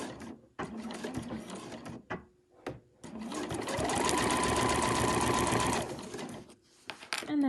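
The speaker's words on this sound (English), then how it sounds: "going to carry on sewing until the next corner" A sewing machine stitches binding onto a quilted overlocker cover, first in short stop-start bursts, then a long steady run of rapid mechanical whirring close by before slowing to a halt.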